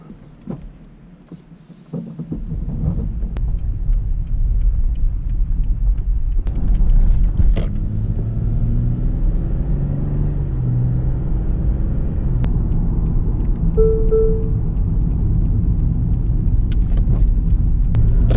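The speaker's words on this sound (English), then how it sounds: "So this is going to be a POV test drive of the Lexus 2012 IS250." A 2012 Lexus IS250 sedan with all-wheel drive is heard from inside on a highway drive, a steady low engine and road rumble holding level throughout with faint rattles and no talking.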